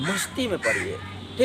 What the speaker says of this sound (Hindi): ऊपर से कौवा काँव काँव बोल रहा है